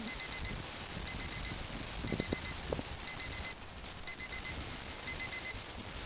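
A flight timer alarm on the transmitter for an XK DHC-2 A600 Beaver RC airplane gives faint, evenly spaced double beeps over steady wind and motor hiss, flying outdoors in breezy conditions.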